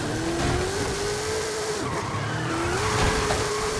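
A van drifts in the racing game Forza Horizon 5, its tires squealing in a long sustained skid over a steady engine roar, loud and close throughout.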